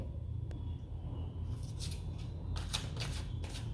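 Tarot cards being shuffled, several soft riffling bursts of card flutter, close and quiet over faint room hum.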